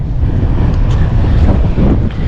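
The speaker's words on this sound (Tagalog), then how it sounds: "Lakas ng hangin." Strong wind at sea on a fishing boat buffets the microphone in a steady, loud low roar, with faint traces of water and an engine beneath it.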